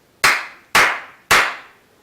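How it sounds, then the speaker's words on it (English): A pair of hands claps three times, close and sharp, each clap evenly spaced about half a second apart with a short decay and nothing else in the background. "The easiest way is to simply clap your hands, for example, 3 times like this"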